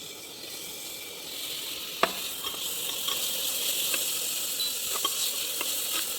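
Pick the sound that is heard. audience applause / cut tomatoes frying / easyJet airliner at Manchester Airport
cut tomatoes frying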